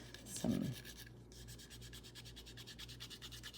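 Lead being rubbed in along the seams of a Dollar Tree DIY craft, quiet repeated scratchy strokes in a close, even rhythm, with one brief louder knock near the start.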